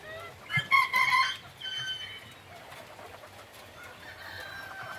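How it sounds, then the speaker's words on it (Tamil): Brahma chickens cluck and squawk faintly a short distance away on a farm, with a brief burst of louder calls early on. "இந்த கோழிகள் வந்து பிரம்மா என்று சொல்லக்கூடிய அந்த பெரிய இன கோழிகள்"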